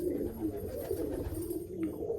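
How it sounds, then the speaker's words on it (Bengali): Pigeons at a pigeon sale cooing steadily in low, overlapping murmurs, close by and continuous with no talk. "এটা পুরো বন্ধ দুমের পায়রা বন্ধুরা"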